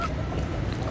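Pet chickens call with short squawks and clucks close by, running steadily through the brief moment.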